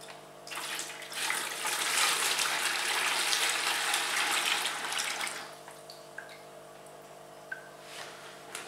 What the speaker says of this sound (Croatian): jednostavno ćemo da izlijemo tu vodu sa ribama pažljivo